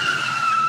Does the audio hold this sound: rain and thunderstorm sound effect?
no